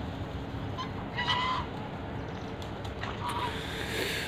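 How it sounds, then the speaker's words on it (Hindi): Geese honk a few times at a distance over steady background noise, with short scattered calls rather than a continuous chorus. "प्यारे प्यारे बतख, domestic geeses."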